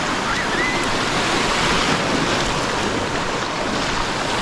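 Sea waves off Bacolod City, a constant close roar of surf mixed with wind buffeting the microphone, steady and unbroken with no talk.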